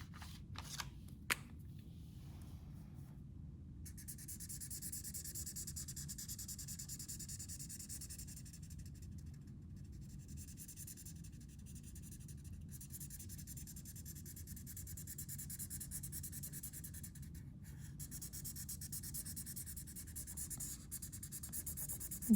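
Coloring in white spaces on paper with art materials, faint, close scratching and rubbing strokes that continue steadily and quietly throughout, with no voices.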